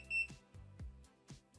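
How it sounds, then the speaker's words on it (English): A Wylera Hair Dreamwave curling tool beeps several times in quick succession, short faint electronic tones in an otherwise quiet room. "now it's beeped, and just wait for it to beep again"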